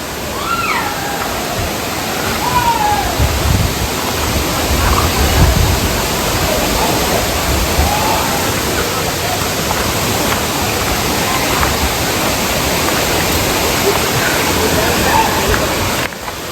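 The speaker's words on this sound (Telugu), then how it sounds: "వచ్చేసాం దగ్గరికి వాటర్ ఫాల్స్ దగ్గరికి" A steady, loud rush of falling water at the Penchalakona waterfall in Lankamala forest fills the whole stretch without a break, with faint voices now and then beneath the roar.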